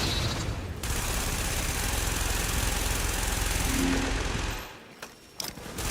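Sustained automatic gunfire in The Division, laid down to suppress snipers: a loud, continuous rattling stream of shots lasting several seconds, then cutting off abruptly with a few scattered bursts trailing after.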